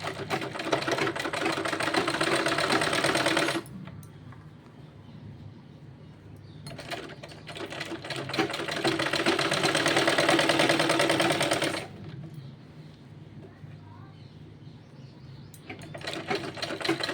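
Stitching on a child's small kurta collar, a sewing machine whirs steadily in two long runs separated by a quieter pause, then starts again near the end, loud and close.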